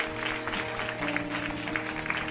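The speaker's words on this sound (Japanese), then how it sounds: "大きな拍手を主に送りましょう。" Church congregation applauding during a Sunday worship service, a steady round of many hands clapping over a sustained organ or keyboard chord.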